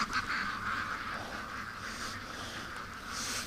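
Ducks quack in the rain, a close flurry of nasal calls over a steady hiss of falling water, the calls fading then picking up again near the end.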